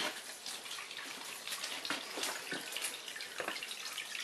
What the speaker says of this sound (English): If I hit the timer on, you can see the water recirculating from the other side of the planter